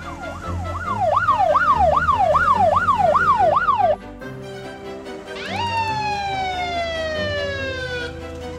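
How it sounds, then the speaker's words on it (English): Heavy military ambulance siren cycling in a rapid up-and-down wail, then cutting off and switching to a long, slowly falling tone, loud and close throughout. "Heavy military ambulance."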